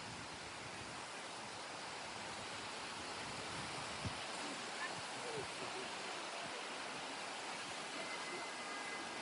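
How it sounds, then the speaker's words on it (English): River in a town street rushes past, a loud, steady broadband flow of water that fills the scene without pause, close and continuous, with no talk over it. "It's a river."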